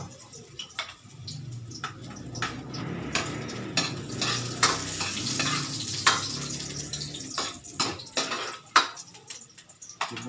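Garlic frying in a pan for adobo, with a continuous sizzle and frequent scraping and clinking of a metal spatula against the pan, close up and without speech.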